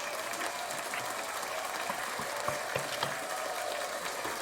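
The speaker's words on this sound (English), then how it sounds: "So I'm gonna give him a big round of applause." A round of applause from a small group, heard faintly and steadily as continuous clapping with no voices over it.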